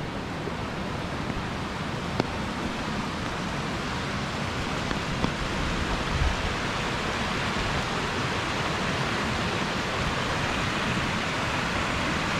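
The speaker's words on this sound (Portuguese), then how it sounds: "tá ventando bastante, a água tá entrando de lado aqui na minha orelha" Strong wind gusting across an open hiking trail with sheep nearby, a loud, dense, continuous rushing roar that buffets steadily for the whole stretch.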